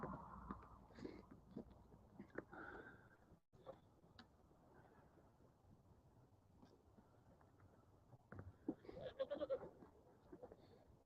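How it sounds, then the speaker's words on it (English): Goats let out of a gate onto a farm give soft bleats and rustle about, faint and scattered, with a livelier burst of bleating near the end. "The goats are now out."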